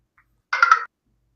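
A short electronic phone chirp, a brief warbling ringtone-like burst of about a third of a second, preceded by a tiny faint blip and surrounded by silence.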